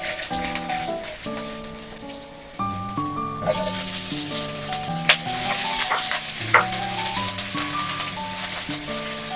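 Garlic sautéing in a little cooking oil, a loud continuous sizzle with occasional stirring clatter and music playing throughout.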